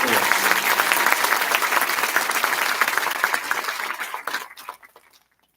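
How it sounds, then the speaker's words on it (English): An audience at a United States Air Force commissioning ceremony applauds for a newly commissioned Second Lieutenant; the clapping is loud and sustained, then thins and fades out over the final seconds. "let's give one more round of applause for your United States Air Force's newest Second Lieutenant"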